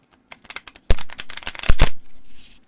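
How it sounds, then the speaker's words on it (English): Tarot De Los Muertos cards are shuffled by hand up close. Scattered crisp slaps build into dense rapid riffling bursts, then trail off into a soft whoosh, with no voices. "All right, so shuffling, dependent on if you like small cards or not."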